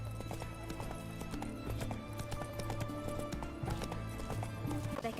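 Roach, the horse in The Witcher 3 video game, gallops with rapid rhythmic hoofbeats, a whinny mixed in over the steady clip-clop.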